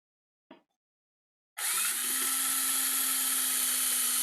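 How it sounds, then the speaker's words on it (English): A power drill bores a hole through a turned wooden camper's cup for a cord loop, starting after a brief tap and then whining steadily and loudly at close range. "So let's drill a hole in here for the cord to go through."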